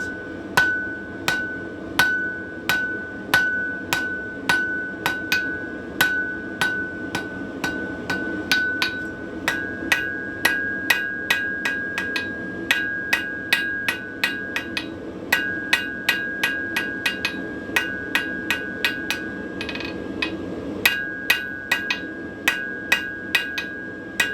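Steady hammer blows ring out on hot steel as a blunt taper is drawn on the end of a forged hook, dozens of sharp metallic strikes in a quick, slightly uneven rhythm with a bright ringing tone, close and loud throughout.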